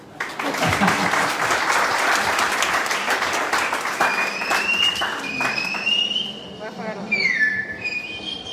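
Audience applause for an interpreter at a gathering in Nicaragua, dense steady clapping across the whole stretch, with cheering voices and shrill whistles rising over it toward the end.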